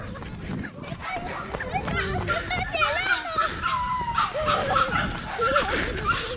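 Dogs bark and yip in quick, close bursts amid excited talk and shouts from an adult and a child, the barking mixing with the voices throughout.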